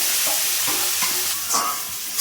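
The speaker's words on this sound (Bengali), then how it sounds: "কড়াইয়ের মধ্যে কারি পাতাটা দিয়ে দিয়েছি। এবার ভালোভাবে ফোড়নটা ভেজে নেব।" Curry leaves crackle in hot oil in a kadai with a blended ginger, garlic, onion, green chilli and tomato paste, making a loud, steady sizzle broken by stirring scrapes throughout.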